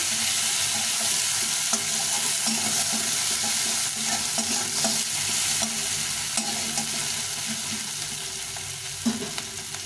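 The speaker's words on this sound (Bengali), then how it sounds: "পেঁয়াজটা একটু লাল লাল করে ভেজে নেব" Two large onions frying in a pan until reddish, with a steady close sizzle and occasional stirring scrapes running throughout, no voices.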